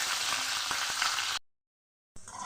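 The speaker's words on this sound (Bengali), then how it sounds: "ক্যাপসিকামটা আমি একটু ভেজে নেব।" Capsicum frying in a pan for a Bengali eggplant chilli dish, a steady close sizzle with a few light clinks, cutting to silence and then resuming briefly.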